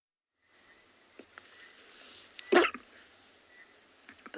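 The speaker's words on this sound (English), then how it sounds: "sorry if you heard that sneeze there" A single sharp, loud human sneeze during a sunset safari outing at Tswalu, standing out from quiet outdoor background hiss.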